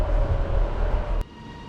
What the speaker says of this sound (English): Right, train's coming, so let's go.